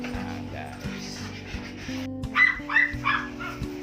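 Pet dogs give a few short barks and yips in the middle of a steady mechanical hum, while someone talks nearby.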